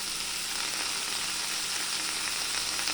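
Mushrooms frying in a pan for a chicken cream dish, a constant bright sizzle, close and steady throughout with no talk.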